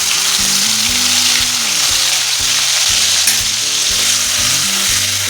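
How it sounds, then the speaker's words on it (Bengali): Small shrimp fry in hot mustard oil, making a loud, close, continuous sizzle over steady background music, with no break through the whole stretch. "তেল গরম হয়ে গেছে, এবার চিংড়ি মাছগুলি ভেজে নিচ্ছি।"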